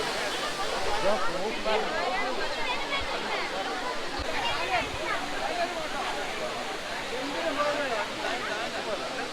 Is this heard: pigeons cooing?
no